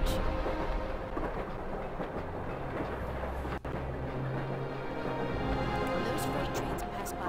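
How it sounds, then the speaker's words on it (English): Freight train rolling across a huge rusty iron bridge beside a city park in The Longest Journey video game, a steady loud rumble and rail clatter running through the whole stretch, with a brief dropout midway. "Those freight trains pass by at least once every 5 minutes all day long."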